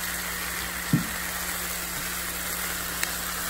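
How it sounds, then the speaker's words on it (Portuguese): Chicken pieces brown in a pan with a steady, even sizzle that holds at a low level throughout, with one soft knock early on and a faint tick near the end. "O franguinho já está bem dourado, vou dourar mais um pouco e vou fazer o molho."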